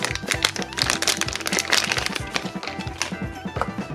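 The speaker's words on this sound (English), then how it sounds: "this one comes in a plastic bag" A plastic bag rustles and crinkles nearby as a toy 1959 Chevy wagon model is unwrapped from it, producing a quick run of crackly bursts and small clicks.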